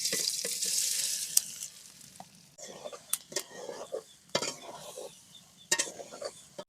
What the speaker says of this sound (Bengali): এবার তেলে সয়াবিন গুনা ভেজে নেবো।